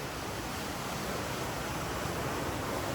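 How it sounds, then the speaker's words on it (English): Water wheel of an old English timber water mill turning in a diverted river, heard as a steady, loud rush of falling and splashing water that fills the whole stretch without a break. "That's a water wheel."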